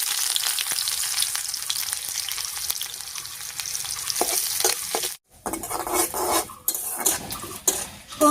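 Chopped onion and a dried red chilli fry in hot oil over a whole cumin tempering, sizzling steadily with stirring and the clink and scrape of a spatula against the pan.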